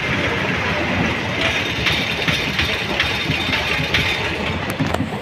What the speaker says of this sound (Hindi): तो ट्रेन आ रही है वैसे अभी फ़िलहाल